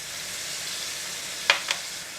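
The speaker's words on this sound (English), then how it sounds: "When pan is slightly hot, putting in all the pork belly." Pork belly sizzling in a slightly hot oiled pan, a steady close hiss of frying with two brief louder crackles or clinks near the end, no talking.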